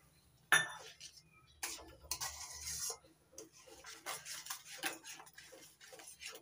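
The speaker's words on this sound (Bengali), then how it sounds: "দুধের সঙ্গে সুজি ভালো করে মিশিয়ে নিয়েছি" Roasted semolina (suji) being stirred into milk in a pan while making modak, a spoon scraping and clinking against the metal pan in irregular close strokes, with one sharper knock early on.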